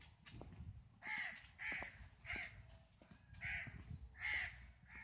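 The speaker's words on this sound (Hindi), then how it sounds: "और परिंदों की आवाज़ें, वहाँ पे तो ऐसा कुछ मिलता ही नहीं है शहर में।" Crows caw repeatedly in open village countryside, a series of harsh calls in loose bursts at moderate distance against a quiet outdoor background.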